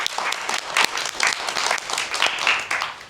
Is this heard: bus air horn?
no